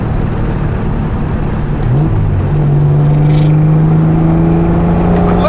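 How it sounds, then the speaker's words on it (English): A 1970 Triumph TR6 accelerates from about 30 mph, its engine note rising steadily and growing louder from a low drone into a strong, sustained pull heard from inside the car. "You can accelerate right from there."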